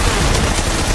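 Skorpion machine pistol firing in the stealth action game Metal Gear Solid 3: Snake Eater, a dense, steady automatic burst of rapid gunfire filling the whole second, loud and close with no pauses.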